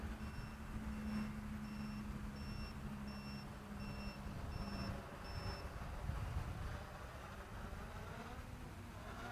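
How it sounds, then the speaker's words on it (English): A Cheerson CX-20 quadcopter low-voltage alarm gives a steady series of short, high electronic beeps at an even pace for several seconds over a broad, rushing background noise, then stops. "low voltage alarm is on"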